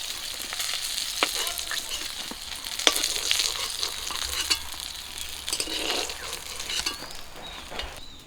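Chopped onions and green chillies fry in a pan with a soft steady sizzle, broken by irregular scrapes and clinks of a stirring spoon, close but fairly quiet and with no speech.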